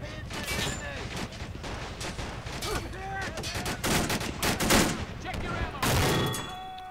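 Gunfire rattles in a MOWA2 3v3 match: dense volleys of rifle and machine-gun shots pop and crack continuously, some close and loud, others distant, forming a busy battlefield barrage.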